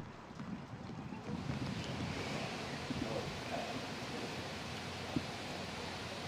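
Gusty wind with rain roars in a continuous broadband rush during a storm, buffeting the microphone with rain-like hiss and no voices.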